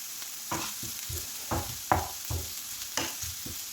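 Onions sauté in a pan with a pinch of salt, a gentle steady sizzle broken by several quiet stirring scrapes, heard up close with no talking.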